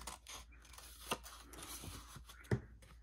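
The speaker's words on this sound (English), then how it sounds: "And now we are going to cut up here in the corner." Scissors make a couple of short, close snips through paper for a gatefold album, with soft rustling of the sheet in between, all quiet and near.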